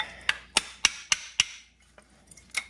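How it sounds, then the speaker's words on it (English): Hammer blows driving out a rusted inside brake part during a brake job, five sharp metallic strikes at a steady rhythm, then a couple of lighter taps after a short pause, close and loud with no talking. "you gotta drive it out with a hammer."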